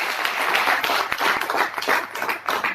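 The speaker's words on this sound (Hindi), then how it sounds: "अगर क्लियर हुआ तो सिर्फ एक बार ताली बजाइए," An audience at a seminar claps together, a dense burst of many hands sustained across the whole stretch rather than a single clap, loud and close.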